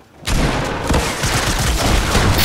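Gunfire in a video game, a sudden close loud burst of rapid overlapping shots that keeps rattling densely to the end.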